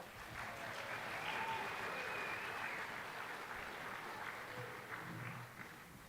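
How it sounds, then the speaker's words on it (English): A baccalaureate ceremony audience in Gilbert, Arizona gives a round of applause, a steady, moderately distant wash of clapping that fades near the end. "Let's give them one more round of applause."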